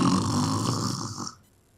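A voice imitates a person snoring, one long rough drawn-out snore that fades into quiet at the end, close and fairly loud with no other talk.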